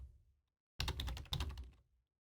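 Typing on a computer keyboard: a brief run of close, crisp key clicks in two quick clusters, set against near silence.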